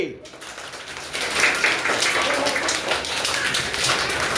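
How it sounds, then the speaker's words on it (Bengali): A room full of children bursts into loud, sustained clapping, a dense, even patter of many hands close by that keeps going strong throughout. "এবার জোরে একটা করদালি"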